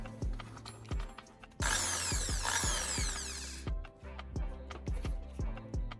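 An electric drill spins a carbon rod pulled from a dismantled battery, whirring in short bursts with a louder, harsher stretch of grinding in the middle, close and alone.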